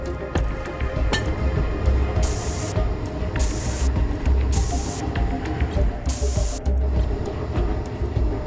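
Spray painting in the video game Stationeers: four bursts of spray hiss, each about half a second long, over a constant loud machinery rumble.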